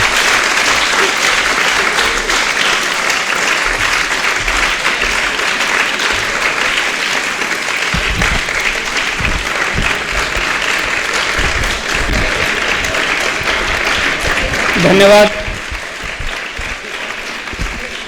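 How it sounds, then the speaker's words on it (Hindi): Audience at a Hindi seminar on the ten virtues of dharma applauds steadily after a speech, a dense sustained clapping that ends abruptly near the close, followed by a brief spoken word of thanks. "सभी विद्यार्थियों से निवेदन है कि तालियों की श्रृंखला को यहीं पर विराम दें"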